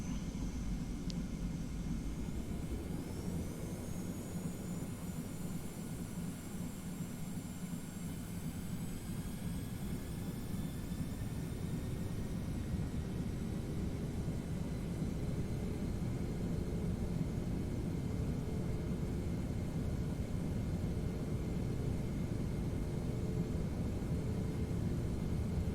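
TFDI 717 twin jet engines spooling up to takeoff power in Prepar3D v4, a rising whine settling into a steady broad roar that holds throughout.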